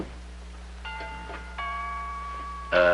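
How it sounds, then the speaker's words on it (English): A two-tone electronic doorbell chime sounds twice, each ring held and bright, the second louder and cut short at the end, over a low hum. "would you mind answering the doorbell"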